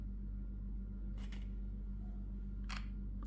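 Two simulated shutter clicks from a Fujifilm X-M5 camera, each a short crisp double snap about a second and a half apart, faint over a steady low electrical hum.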